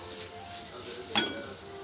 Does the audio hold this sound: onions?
yes